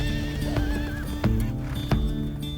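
A mustang horse whinnies with a long, wavering neigh, followed by a couple of heavy hoof thuds, heard close and clear over a steady background hum.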